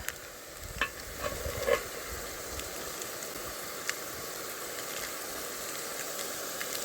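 Garlic paste stirred into hot oil in a pan while cooking a prawn dish, giving a soft, steady sizzle with a few faint stirring scrapes and taps.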